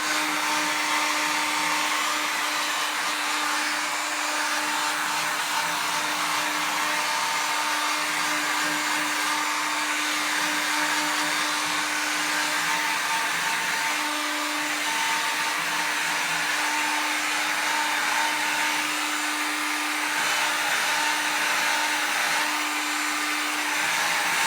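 A hot air blower runs steadily while heating vinyl wrap to seal it down, a continuous airy whir with a faint steady hum throughout, with no talking.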